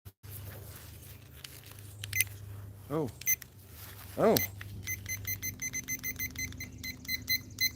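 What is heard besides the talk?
kitchen timer beeping as buttons are pressed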